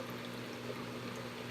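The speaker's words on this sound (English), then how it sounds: "At the sink, I'll start off with hot water" Hot water running at a sink to rinse dyed fabric, a faint steady stream with a low constant hum underneath and no speech.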